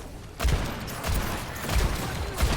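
Gunfire in a video game shooter, a string of four rapid booming shots at a steady rhythm, loud and close with crackling noise between them.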